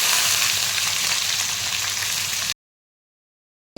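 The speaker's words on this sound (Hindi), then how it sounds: "लहसुन पक गया तो आलू डाल रही हूँ।" Potatoes and garlic frying in hot oil give a loud, steady sizzle close by for about two and a half seconds, then cut off abruptly into silence.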